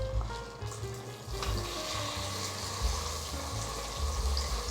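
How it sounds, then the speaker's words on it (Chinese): Tofu skin pouches hiss and crackle quietly in a little hot oil in the inner pot of an electric cooker set to fry, with soft music playing over the sizzle. "再来煎豆包和面肠"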